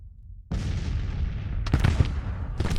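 Rifled cannon artillery firing in the Civil War strategy game Grand Tactician: a sudden loud boom bursts in and rolls on as a dense rumble, with sharper cracking reports near the end.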